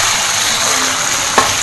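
Turmeric and garlic sizzling in a pan for chicken rica-rica, a steady broadband frying hiss with one brief clatter near the end, no talk.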